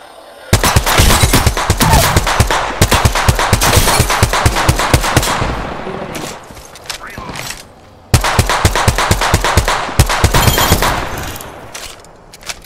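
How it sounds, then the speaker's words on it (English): Sustained automatic gunfire in a video game battle, loud rapid bursts that pause briefly and then resume, with a voice faintly beneath. "They spotted me. I'm taking shots."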